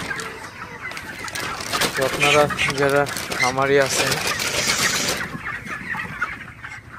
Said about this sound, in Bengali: মুরগিগুলা কিন্তু হাঁ করে আসলে শ্বাস প্রশ্বাস চালাইতেছে